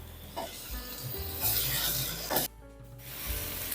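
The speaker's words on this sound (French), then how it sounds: "Là, je fais revenir donc les champignons, on va les faire dorer et jusqu'à évaporation totale de l'eau de végétation" Mushrooms and onion sauté in a pan, a close, steady rubbing sizzle broken by a few scraping stirs.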